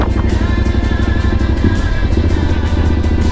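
Motorcycles rumble loud and close as they ride toward a toll booth, giving a steady, throbbing engine growl with no breaks.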